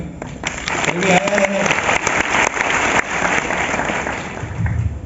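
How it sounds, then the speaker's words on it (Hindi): An audience at a university talk show bursts into applause, a dense, close patter of clapping that rises quickly and carries on through the moment, with a voice speaking briefly over the start. "एक संदीप महेश्वरी शो पे एक तालियां"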